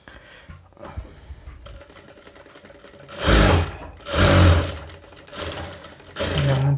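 Sewing machine stitching a seam on a princess cut blouse, running in short bursts with two louder, sustained runs of rapid needle clatter in the middle and another run starting at the end, with no talking.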